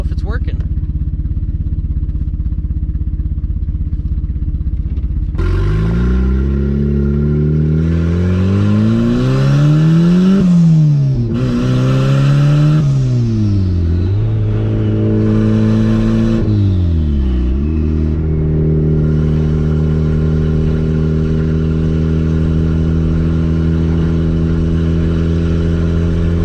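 A Mazda B2300 pickup truck with a Honda K-series engine swap accelerates on a test drive. The loud, close engine rises in pitch through repeated gear changes, falls back between pulls, and then settles into a steady cruising drone.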